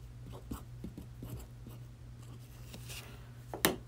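A dry erase marker writes quickly on a board, making a run of short, squeaky scratching strokes in quick succession, faint to moderate, ending with one sharper, louder stroke.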